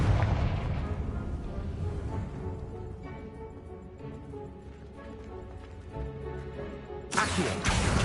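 The Confringo blasting spell in Hogwarts Legacy goes off with heavy booming bursts and rumbling impacts over game music, ending in a loud, sharp crackling blast.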